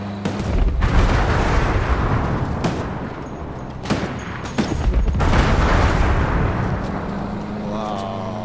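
Fireworks bursting in the video game Ghost Recon Breakpoint: a loud, continuous barrage of booming and crackling explosions, with sharp individual bangs standing out from the dense rumble, under people talking.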